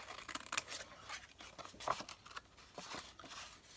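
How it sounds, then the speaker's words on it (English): Scissors cutting through paper with a series of quick crisp snips and slicing rustles, close and fairly quiet, in uneven bursts. "I think I'm gonna cut this right here."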